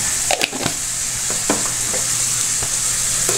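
Jackfruit, mung beans and pork cooking in a pan with seasoning and salt, sizzling steadily while being stirred, with a few soft scraping clicks of the utensil against the pan.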